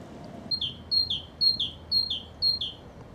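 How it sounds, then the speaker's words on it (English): A great tit sings in the countryside in April, repeating a clear two-note phrase six times at a steady rhythm. It sounds moderately near over a quiet background. "Great tit is by far the most prevalent songbird I'm hearing at the moment."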